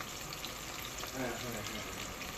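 Onion paste with turmeric, chili and cumin powder fries in a pan for a fish curry, giving a steady, dense sizzle throughout. The texture swells slightly midway as the spices are stirred.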